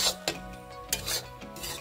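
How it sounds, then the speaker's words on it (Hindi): Semolina roasting dry in a kadai for sothaura laddoo, with a spoon scraping and clattering against the metal in a few quick strokes and a faint low hum underneath. "हम लोग भुन रहे हैं सूजी"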